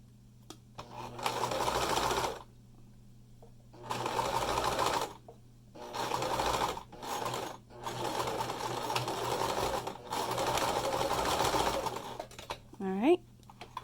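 Back stitching a fabric face mask, a sewing machine hums close by in several bursts of a second or two, separated by short quiet pauses, with a faint steady hum underneath.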